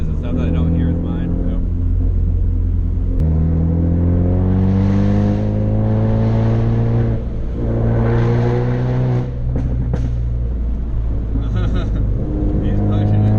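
A 2019 Mustang GT 5.0 with PP2 drives the Tail of the Dragon, its V8 droning loud and close as revs climb and fall through repeated gear changes and throttle lifts, with occasional talk inside the car.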